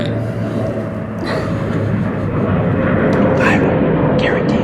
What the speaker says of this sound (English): an airplane went overhead.